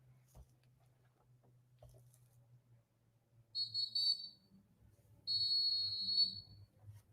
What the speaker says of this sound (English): that whistle been great